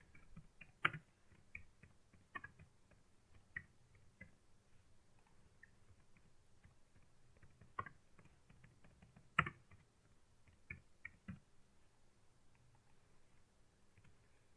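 Someone types on a computer keyboard in a quiet room, with soft, irregular key taps and a few louder clicks spread across a long stretch, and no talking.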